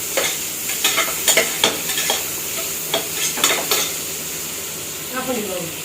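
Coriander leaves being sautéed in a pan, a steady sizzle with repeated scraping stir strokes and light clinks of a utensil against metal, close and fairly loud, with no talk.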